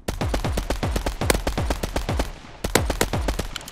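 Rapid bursts of gunfire from a gun in the video game Mini Royale, roughly a dozen sharp shots in a fast, steady rhythm with a brief pause partway, loud and close, with no talking.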